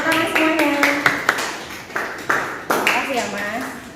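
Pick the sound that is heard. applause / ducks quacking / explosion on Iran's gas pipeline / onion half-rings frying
applause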